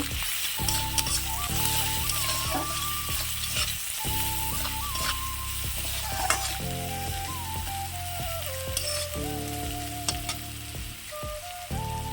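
Spiced potato and capsicum curry with turmeric is sautéed in a pan, giving a dense, constant sizzle with occasional stirring scrapes, while tonal background music plays underneath.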